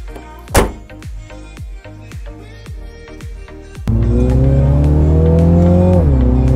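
A Mini Clubman JCW revs in sharp, repeated engine blips with gear-like thuds, then launches into a loud, sustained acceleration whose rising engine note climbs steadily up close.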